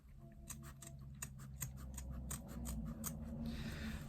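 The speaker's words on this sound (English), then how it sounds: "That's how I cut out my exterior fabric" Fabric scissors snipping through exterior fabric and foam for a sewn bag, a quick regular series of close crisp cuts ending in a softer rustle, with no talking.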